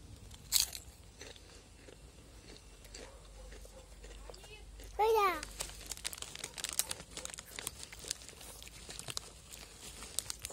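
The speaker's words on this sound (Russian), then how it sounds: "у меня даже кошка ест чипсы" A cat eats potato chips: crisp crunching and crinkling bites at close range, quiet at first and then building into a rapid series of crunches mixed with faint rustling.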